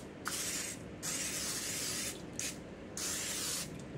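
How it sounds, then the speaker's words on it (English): Butter cooking spray hisses from a can in three separate bursts, each about a second long with short pauses between, close and clear with no talking. "And I'm spraying this with butter spray."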